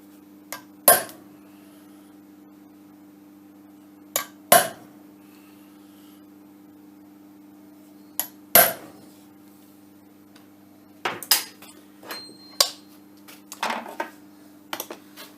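Sharp metallic taps of a hammer on a centre punch marking a metal part in a lathe workshop: single strikes spaced seconds apart, then a quicker cluster of lighter clicks, over a steady low machine hum.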